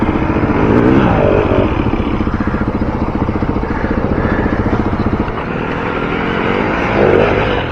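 A big BMW motorcycle climbs a steep off-road ascent at a trail riders' skills day, the engine thumping loudly and rhythmically close by as it labours uphill, easing off partway before revving again.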